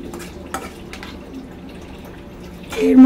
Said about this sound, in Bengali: জাস্ট একটু হালকা জল, যাতে মাছটা এর মধ্যে দেওয়া যায় সেই অনুযায়ী জল